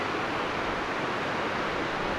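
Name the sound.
waterfall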